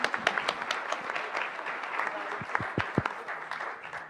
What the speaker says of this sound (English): Another round of applause for both our representatives.